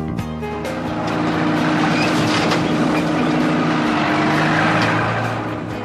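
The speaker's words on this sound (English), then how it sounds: "The bulldozer is the first to go to work. It pushes heavy rocks and piles of dirt out of the way." A bulldozer pushes heavy rocks and dirt, its diesel engine droning steadily, swelling louder midway and then easing slightly at the end.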